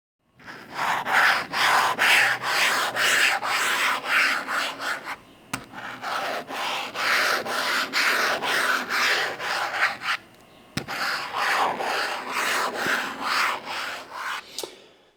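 A Supernote ceramic nib scrapes lightly across an e-ink tablet screen in three long, harsh, raspy bursts of rapid back-and-forth strokes, close up and with no talking.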